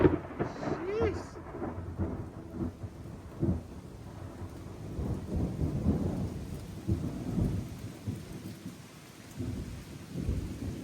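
A thunderstorm with heavy rain: steady, dense rainfall hisses throughout while deep thunder rumbles roll in and out close by, with occasional faint voices underneath.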